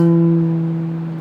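A single sustained harmonic rings out loud and clear on a 1938 Kalamazoo KHG-14 guitar with a straight, unslanted saddle, sounding sharp and out of tune, then slowly fades without any talking.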